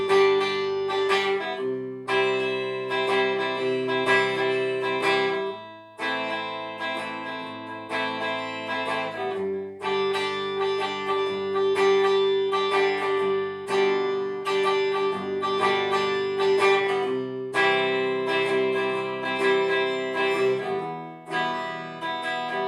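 Acoustic guitar strummed through effects in a varied, syncopated pattern, bright chord strokes with short pauses, played alone at a moderate level.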